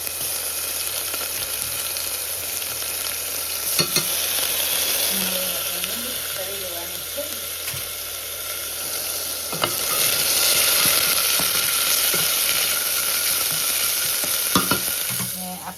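Ginger and green chillies frying and being stirred in hot oil for poha, a steady close sizzle with occasional scrapes and clicks of the spoon against the pan, running continuously and swelling slightly toward the end.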